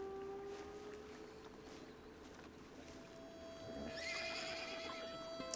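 A horse in the video game Red Dead Redemption 2 whinnies near the end, a high wavering neigh over a quiet, low background hum.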